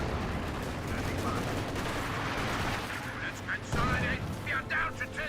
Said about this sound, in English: Panther firing away, gains some hits in the Jackson.